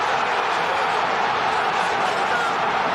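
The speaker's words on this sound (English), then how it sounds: "And just listen to this crowd" A packed football stadium crowd at a Champions League match roars continuously, a broad, steady wall of cheering noise with no breaks, heard from within the stands.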